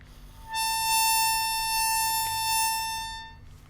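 A harmonica plays a single sustained draw note on hole six, repeated without tongue separation so the two notes blur into one long, steady reedy tone, fairly close and alone.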